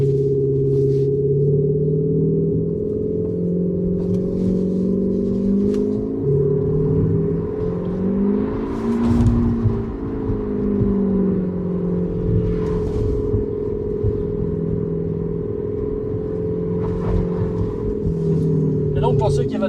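Tesla electric car fitted with an Active Sound Exhaust kit, its synthetic engine note rising and falling with acceleration; a loud, steady layered drone with pitch sweeps through the run.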